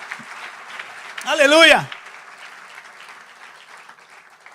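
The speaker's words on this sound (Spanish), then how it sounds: "Dale un aplauso al Señor, qué testimonio hermoso." A church congregation breaks into applause during a service, a dense clapping that swells over a spoken exclamation from the speaker and then fades into a lingering soft patter.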